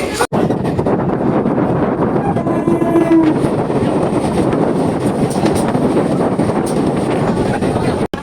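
A local train rides from Canning to Sealdah, giving a loud, steady rumble of wheels and carriage with wind buffeting the microphone throughout and a faint horn-like tone partway through.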